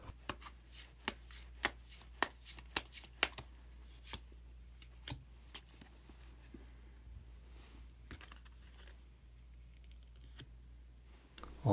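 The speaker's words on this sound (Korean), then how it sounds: "그러면 히든 카드를 한 장 더 뽑아보도록 하겠습니다" A tarot card is drawn from the deck: a run of crisp, close card snaps and taps at the start, then fewer, quieter clicks and handling sounds. There is no talking.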